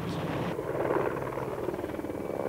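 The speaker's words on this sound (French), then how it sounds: "le russe 1017 de Kazan hélicoptère est présenté au Bourget" A Russian Kazan Mi-17 helicopter at the Le Bourget air show gives off a rumbling rotor and turbine roar, steady and moderately loud, heard at a distance with a soft pulsing beat.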